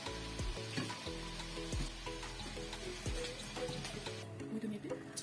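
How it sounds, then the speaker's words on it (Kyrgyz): Potatoes fry in oil in a pan with a steady, close sizzle and scattered crackles and pops throughout. "Мынакей биздин картошкаларыбыз кызарып чыгып баштады."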